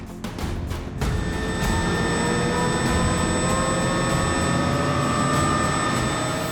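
Military helicopters, a Chinook with an Apache escort, spin up after a sharp onset, a loud sustained turbine whine with steady high tones over a churning rotor roar, close and continuous.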